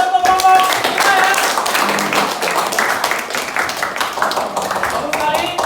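Indonesian classroom applauding a presenting student group: dense, steady clapping from many hands filling the room, close and loud, with a few voices briefly heard at the start.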